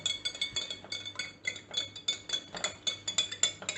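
Sugar and salt being stirred for Thai Prik Nam Som, a spoon clinking rapidly and rhythmically against a small glass or ceramic bowl, close and fairly quiet, with no talking.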